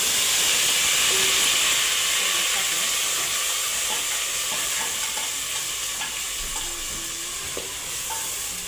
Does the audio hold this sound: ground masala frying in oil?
yes